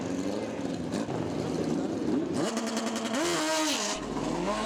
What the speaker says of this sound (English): bike sounds like it's breaking up a bit towards the end of the run